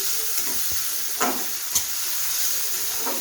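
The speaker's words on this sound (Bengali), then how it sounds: "এটাকে আমি হালকা একটু তেলে ভেজে নেব, জাস্ট 2-3 মিনিটের জন্য" Small cut pieces of dried churi fish (shutki) fry lightly in oil, giving a steady close sizzle and hiss with a few faint pops and crackles.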